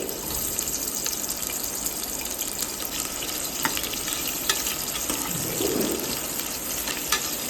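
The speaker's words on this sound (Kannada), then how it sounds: "ಸೊ ಈರುಳ್ಳಿನ ಆ್ಯಡ್ ಮಾಡ್ಕೊಂಡು ಒಂದು 5 ನಿಮಿಷ ಫ್ರೈ ಆಗಕ್ಕೆ ಬಿಡಿ" Sliced onions fry in hot oil for a leg soup, a steady dense sizzle and crackle that runs without a break. No voices are heard.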